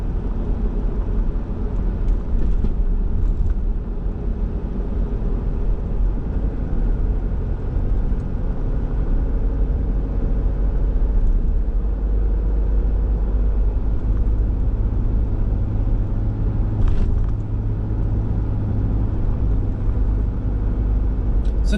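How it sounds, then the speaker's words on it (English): Road traffic near Mill Point Road in South Perth, a steady, loud low rumble of passing vehicles and engines that continues throughout with no voices. "So typically the traffic's not that bad here at this time of the day"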